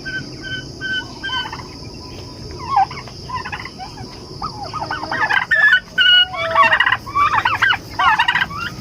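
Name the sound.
turkey gobbling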